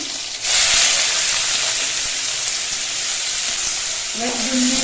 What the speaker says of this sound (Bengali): এর মধ্যে আমি চাল কুমড়োর খোসাগুলো দিয়ে দিচ্ছি